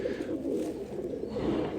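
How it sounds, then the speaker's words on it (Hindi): A Teddy-type pigeon coos softly and steadily in a low, murmuring drone over about two seconds, with no speech. "ये कबूतर उनमें से है, बहुत शानदार कबूतर है"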